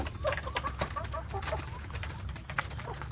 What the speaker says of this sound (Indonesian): anak ayam kampung saya ini sudah besar-besar